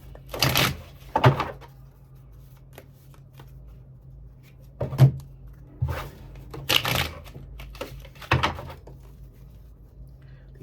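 Tarot cards shuffled by hand in bursts, five or six quick riffling flurries separated by quiet pauses, close and crisp.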